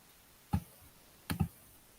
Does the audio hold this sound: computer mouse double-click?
yes